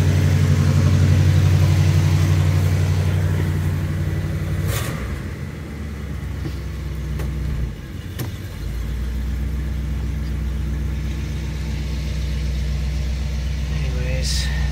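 Cold start of a 1972 Oldsmobile Custom Cruiser's Rocket 455 V8: a loud, close, steady rumbling idle with a brief dip and lurch partway through, then settling back into an even low throb.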